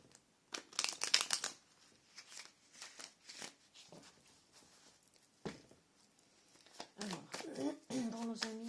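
Tarot cards shuffled for a card reading, a fast papery riffle and patter in bursts, with a voice speaking in between.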